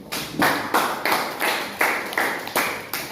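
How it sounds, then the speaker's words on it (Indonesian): Students in a classroom clap together in a patterned rhythm, about nine sharp group claps arriving in short regular bursts with brief gaps between them. "Tepuk tangan dulu untuk Dinda"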